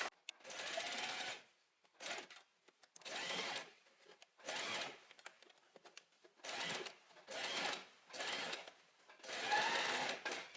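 A sewing machine stitches a blouse seam near the neckline, running in about seven separate bursts of steady mechanical whirring, each one to two seconds long, with short quiet pauses between them.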